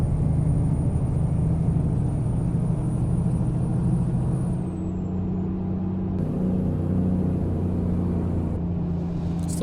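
A logging truck's diesel engine in American Truck Simulator rumbles steadily while rolling along the highway, a low continuous drone that shifts slightly in pitch midway as power is added.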